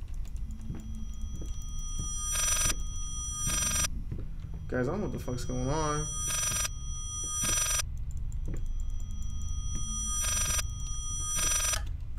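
Telephone in the Layers of Fear horror game rings in short, repeated bell-like bursts, roughly in pairs, while someone talks loudly over it throughout.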